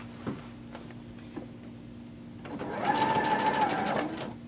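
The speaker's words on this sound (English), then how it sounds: "go ahead and take it to the sewing machine and start with your first side" A sewing machine stitching a skirt seam starts up after a few quiet taps and runs steadily for a couple of seconds, a close, continuous mechanical whir.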